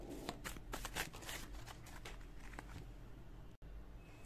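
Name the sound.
tarot cards being shuffled and dropped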